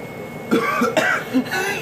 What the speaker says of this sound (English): Oh man, made me cough too.